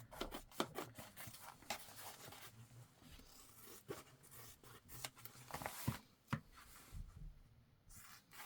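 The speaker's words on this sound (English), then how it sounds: "I'm going to trim my seam allowance down" Scissors trim the seam allowance on a fabric tote bag, giving close, quiet snips and rubbing fabric sounds in an irregular rhythm with several sharper cuts and no talking.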